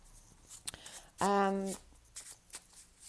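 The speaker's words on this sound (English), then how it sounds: "We're going to pull some oracle cards as well." Oracle cards for a tarot reading are handled close by, with a few soft taps and a short riffling burst. A speaking voice is heard briefly in the middle.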